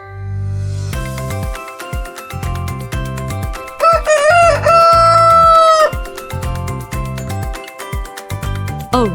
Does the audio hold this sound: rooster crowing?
yes